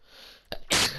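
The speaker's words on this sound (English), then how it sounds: "Oh god, I'm sneezing." A single close sneeze: a short sharp intake followed by a loud explosive burst of breath, alone against a faint background hum.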